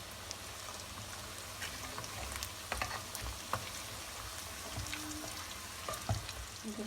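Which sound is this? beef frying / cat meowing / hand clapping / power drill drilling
beef frying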